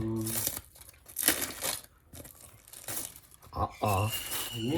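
Paper crinkling and tearing in bursts close by, with people talking intermittently over the rustling.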